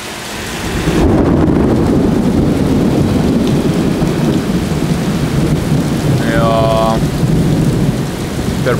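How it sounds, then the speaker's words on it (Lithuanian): A thunderstorm in Tokyo: steady heavy rain hisses on surfaces while thunder rolls in and rumbles low and loud, a sustained storm wash with a faint tonal sound near the end. "Per paskutinį pusmetį tai yra pirmieji griaustiniai."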